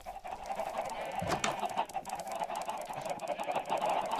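Minecraft chicken clucks and squawks rise over a steady mid-pitched game hum, arriving as several brief, moderately loud calls spread across the stretch.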